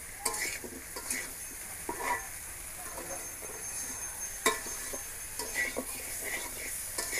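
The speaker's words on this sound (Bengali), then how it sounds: "বেগুন আলু মশলার সাথে আর একটু কষিয়ে নেব।" Potatoes and eggplant are sautéed with spices in a pan while cooking a fish curry; a steady sizzle runs throughout, broken by repeated scraping stirs and occasional sharp clinks of a utensil against the pan.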